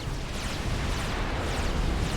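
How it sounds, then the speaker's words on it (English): Dense, continuous rumbling barrage of explosions as missile salvos destroy an alien Seraphim base in a real-time strategy game, a thick overlapping roar with no pauses. "Explosions happening all around"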